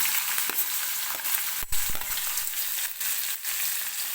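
Finely chopped onion goes into hot oil with lightly fried garlic, crackling in a steady close sizzle broken by a few sharp stirring clacks and scrapes.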